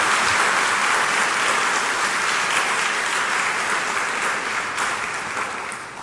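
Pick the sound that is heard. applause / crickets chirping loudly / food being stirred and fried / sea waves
applause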